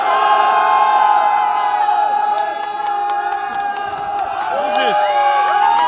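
Dense crowd noise at a rally in Trafalgar Square, London, for the Punjab 2020 Khalistan referendum, with steady cheering, whistles and shouting voices sustained throughout and a nearby person speaking briefly.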